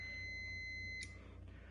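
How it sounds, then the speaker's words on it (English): A multimeter gives a steady continuity beep across a good fuse. The faint electronic tone holds for about a second and then cuts off. "when I go across a good fuse, it beeps and shows me about 2 ohms, which is good"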